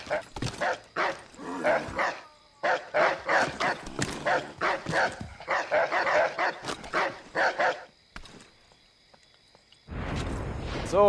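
A dog in the video game Assassin's Creed III barks in rapid repeated bursts, several loud close yaps grouped in clusters with short pauses, ending in a whimpering yelp amid game noise.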